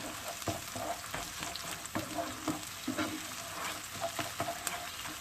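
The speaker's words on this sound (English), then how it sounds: "Don't fry your paste too much," Tomato paste sizzles and fries in a pan for Turkish stuffed vine leaves in olive oil, a steady close crackle with soft stirring scrapes throughout.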